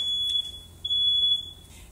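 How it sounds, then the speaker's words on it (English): A home smoke alarm sounds a single loud, piercing high tone that holds nearly continuously for about two seconds, close by and alone. "my fire alarm is going off"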